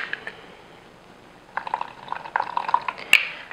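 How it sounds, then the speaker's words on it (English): A tablespoon of rice vinegar is poured into a dish for a vegan carrot lox recipe, giving faint liquid trickles and drips with a light glassy clink near the end in a quiet kitchen. "I'm going to add a tablespoon of rice vinegar."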